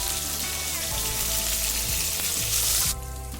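Curry leaves dropped into hot oil with garlic and green chilli for tomato pickle, a loud, close, continuous sizzle that briefly flares and then settles.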